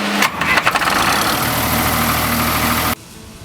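An Excalibur Hydra pump engine, a 2014 unit, starts up and settles into a loud, steady running drone close by, then cuts off abruptly near the end.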